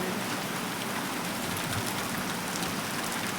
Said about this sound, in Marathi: पण बरं झालं पाऊस पडला थोडा वेळ.